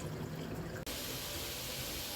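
Cold tap water runs steadily from a faucet to rinse rice in a kitchen sink, a loud continuous splashing stream that changes tone briefly as the flow shifts partway through.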